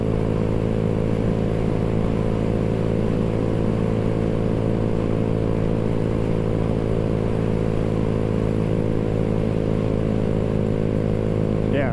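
A Honda Grom motorcycle engine fitted with exhaust springs runs steadily while riding, a loud, close, continuous buzzing drone with rich harmonics held at a fairly constant pitch throughout.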